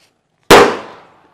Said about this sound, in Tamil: மொபைல்ல வந்து பட்டாசை வெடி அப்படினு சொல்லி சொன்னா பட்டாசு வந்து வெடிக்கும்.